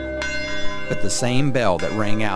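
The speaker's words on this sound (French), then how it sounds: "la même cloche qui sonna ce certain dimanche matin il y a 71 ans, appelant les croyants à venir assister au service, sonne toujours fidèlement actuellement" A church bell rings once with a sustained, ringing tone at the start, and then a voice talks over its decaying hum.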